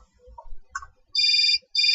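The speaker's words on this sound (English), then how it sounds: "Oh, another phone call." Telephone ringing in the video game Syberia: two loud electronic ring bursts, a longer one followed by a second that is cut off, after a few faint soft sounds.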